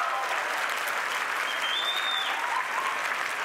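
An audience at a university graduation ceremony applauds, dense sustained clapping from a large crowd filling the hall at an even, loud level from start to finish.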